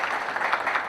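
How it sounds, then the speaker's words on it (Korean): Audience at a city council policy forum in Naju giving a brief burst of clapping, a short, moderately loud patter of many hands. "우리 최선 선생님께 다시 한번 응원의 박수 부탁드립니다"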